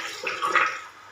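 Water running from a kitchen tap into a vessel, a brief soft steady hiss and gurgle that tapers off as the flow is shut.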